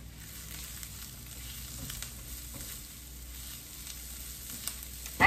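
Garlic sizzling in oil in a pan while meatloaves are prepared, a soft steady frying hiss close by with a few faint clinks and a louder knock at the end, no talking.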